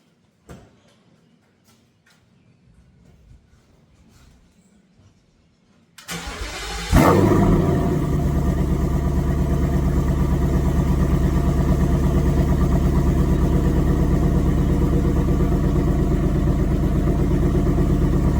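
A Ford Mustang S550 with stainless headers and open mufflers cranks and fires up loudly, then settles into a deep, steady rumbling idle that continues to the end.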